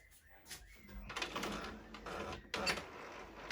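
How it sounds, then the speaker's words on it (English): A printer tries to feed thick 220–300gsm cardstock, its rollers and motor whirring and grinding in short uneven bursts with brief pauses between. "I'm just going to press the print button and see what happens."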